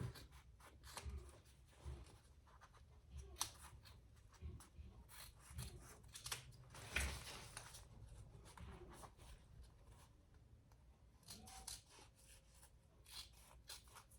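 Scissors snip and trim fabric near a curve of a sewn sling bag, with faint, quiet cutting and rustling sounds in irregular bursts, close but soft and without talking.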